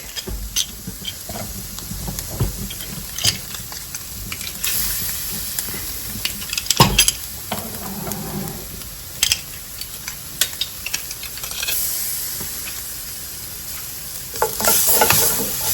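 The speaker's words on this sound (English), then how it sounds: "We're going to give that a good stir and let that cook for about a minute or so, just to cook the rawness out of the garlic." Tomato paste and minced garlic fry in a pan under a constant sizzle, while a spoon stirs with scraping sweeps and sharp clicks, louder near the end.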